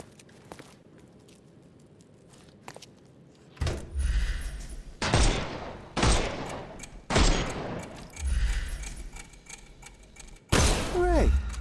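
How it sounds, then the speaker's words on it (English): Gunfire in the Sherlock Holmes Chapter One video game as enemies' armour is shot off: about six loud, booming bursts arrive at irregular intervals after a quiet stretch, each followed by a short rumbling tail. "Shoot off their armour."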